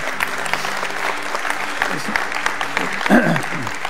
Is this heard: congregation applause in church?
yes